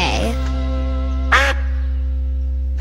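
A cartoon duck gives two short quacks, one at the start and one a second later, over a steady humming musical drone.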